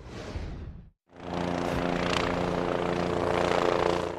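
A state trooper helicopter guarding the Alabama beaches gives a steady, loud rotor and engine drone that fills the clip, broken by a brief near-silent gap about a second in.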